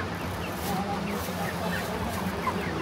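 Medium-sized chickens on a poultry farm make a steady, dense murmur of clucks and soft calls, with a few higher chirps, under a man's nearby speech.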